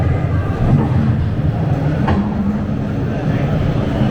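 Toronto heavy-rail subway train at a station, a steady loud rumble of wheels and motor filling the whole stretch, with no speech.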